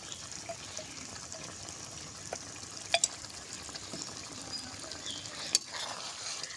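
Ghee is drizzled over a village-style radish paneer curry and sizzles faintly as it finishes cooking. The hiss is soft and steady, with a couple of small ticks and no talking.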